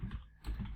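Keystrokes on a computer keyboard as a school name is entered, two short bursts of quiet clicking separated by a brief pause, close and with no voices.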